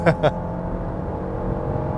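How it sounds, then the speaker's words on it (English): A 2021 Genesis GV80 with a 3.5-liter twin-turbo engine in sport mode gives a steady close engine hum and whir. The hum runs under two short loud bursts at the start. "let me just put the car into sports and let you hear the engine."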